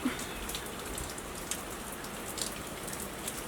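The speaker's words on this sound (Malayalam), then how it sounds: "ഇന്ന് മഴ പെയ്യുന്നത് നല്ലതാണ്" Rain falling outdoors on a cold day, a steady close hiss of drops on surfaces with a few louder splats, continuous and without speech.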